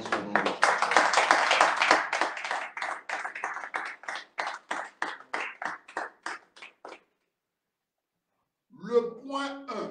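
A church congregation claps in acclamation, loud rhythmic hand claps that thin out and stop after about seven seconds; after a short silence a voice begins speaking.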